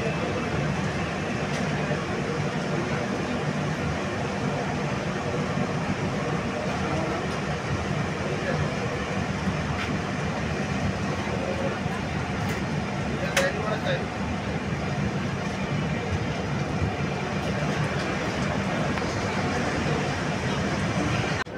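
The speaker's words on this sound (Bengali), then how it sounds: "ট্রেন ছেড়ে দিল।" Passenger train running from Kharagpur toward Digha, a steady, loud rumble and rattle of wheels and carriage filling the whole stretch with no breaks, with faint voices of passengers mixed into the noise.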